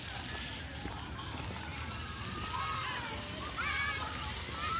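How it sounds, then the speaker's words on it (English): Water sprays and splashes steadily at a splash pad in McEuen Park, downtown Coeur d'Alene, Idaho, heard at moderate distance with voices talking over it. "let's see how we get through the splash pad without getting wet."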